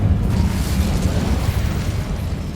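An Incendio fire spell is cast in Hogwarts Legacy, a steady low roaring whoosh of flame that holds for a few seconds at fairly loud level with no speech.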